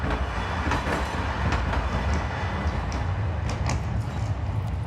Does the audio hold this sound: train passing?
yes